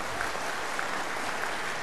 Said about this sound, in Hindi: एक बार जोरदार ताली बजाओ इनके लिए।